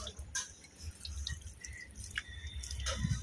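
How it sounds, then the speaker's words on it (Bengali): Water splashes and drips as it is poured over Radha Krishna idols being bathed for a Janmashtami puja at home, a steady close wet trickle with scattered drops. "দাদা চলে এসেছে রাধাকৃষ্ণকে স্নান করানোর জন্য"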